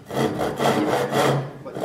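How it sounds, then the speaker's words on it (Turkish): A hand saw cutting wood in a workshop, with three or four steady rasping strokes that cut on the push, close and fairly loud with no talk. "Bu el testeresi. Bu testere iterken keser"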